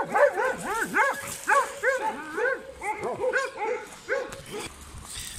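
A kangal dog missing one leg at an animal shelter gives a rapid run of loud, close barks and yelps with whiny rising-falling tones, over roughly five seconds with only brief pauses.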